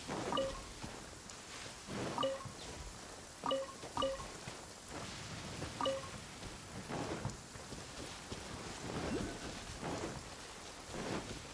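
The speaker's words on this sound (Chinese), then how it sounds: "遇到打雷，你还是待在屋子里比较好哦" Thunderstorm with rain in the Genshin Impact video game: steady rainfall hisses throughout, with several rumbling thunder swells and cracks recurring every couple of seconds at moderate level, no voices.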